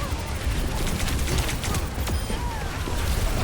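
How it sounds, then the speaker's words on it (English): Moira fires a bouncing orb in a video game amid dense, crackling game effects and rapid gunfire-like bursts that run continuously and loudly. "So I can almost keep firing that orb."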